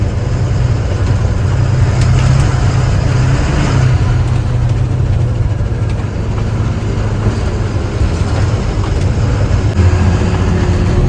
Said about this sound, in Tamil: தமிழ்நாட்டு வண்டி இப்போ தாங்க அதிகமாக வருது, பாஸ் ஆகுது.